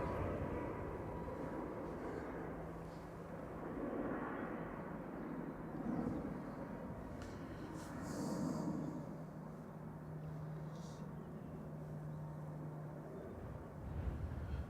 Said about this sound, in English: So the Ryanair to Limoges departing in the background, flight 38.